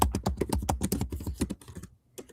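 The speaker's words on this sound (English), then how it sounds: "I hear you typing." Rapid typing on a computer keyboard, a close burst of crisp key clacks in quick irregular rhythm that stops briefly, then resumes with a few more strokes.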